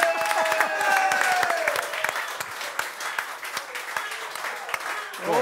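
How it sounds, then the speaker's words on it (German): A live audience at a pub show applauds the head waiter. Full, close applause rolls on for several seconds, with a voice talking over it early on, then thins toward the end. "Ein Applaus hier für Chefkellner Lusa Martis"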